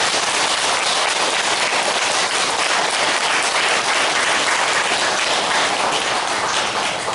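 Warm, sustained applause from an audience at a Buddhist temple gathering, welcoming the resident master monk before his dharma talk; dense, even clapping fills the whole stretch with no voices over it.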